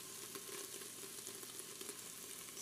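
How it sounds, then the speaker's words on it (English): Onions frying in a pot, cooking down toward deep golden brown for French onion soup, give a steady close sizzle with soft crackles and occasional stirring, no voices. "we're going to let this kind of cook up until the onions are really, really golden brown"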